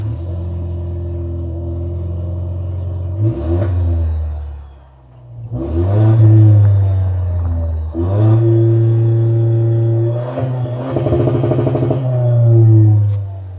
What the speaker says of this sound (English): More importantly, Craig, there's a twin tipped exhaust, which is bespoke to this trim. Let's hear what it sounds like.